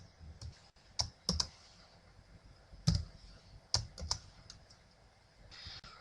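Close, quiet computer keyboard typing: scattered, sharp key clicks in short clusters with pauses between them, over faint room hiss.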